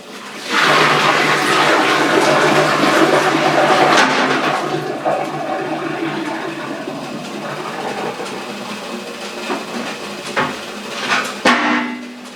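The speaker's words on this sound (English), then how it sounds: "Pour some hot water down there." Hot water poured from a tomato preserving pan down a kitchen sink drain with the plug pulled, a steady loud gushing splash lasting several seconds, then gurgling and clatter as the flow tapers off.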